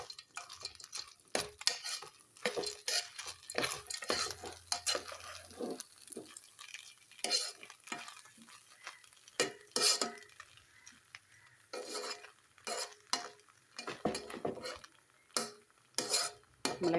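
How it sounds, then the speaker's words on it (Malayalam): Coconut rice being stirred and mixed in a pan, with repeated scraping and clinking of a spoon against metal in uneven bursts, close and fairly quiet, no voices. "നമുക്കിതെല്ലാം കൂടെ ഒന്ന് മിക്സ് ചെയ്യാം."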